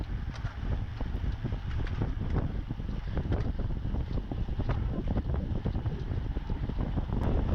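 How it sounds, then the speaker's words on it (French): Strong left-side crosswind buffeting the microphone during a running race, a steady, roaring rush, loud and continuous throughout with no voices. "Surtout que là on arrivait vent de côté. Donc un vent de gauche qui faisait vraiment mal aux pattes."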